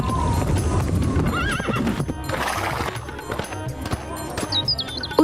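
A mare walks with steady clip-clopping hooves and lets out a whinnying neigh, clear and close, with faint bird chirps behind.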